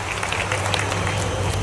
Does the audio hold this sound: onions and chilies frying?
no